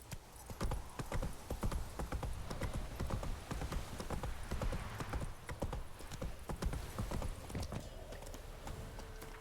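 Hooves of Roach, a horse in The Witcher 3, clip-clop in a quick, steady galloping rhythm, close and fairly loud, with a brief whinny and some faint talk underneath.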